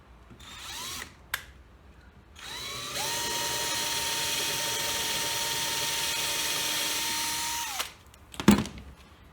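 A power drill or driver runs a steady, loud whine for several seconds, driving 25mm screws into a clamped wooden block on a workbench, with brief bumps and clicks before and a clunk after.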